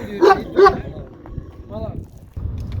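Two loud dog barks close by, followed by softer yips and whimpers, with a person talking in the background.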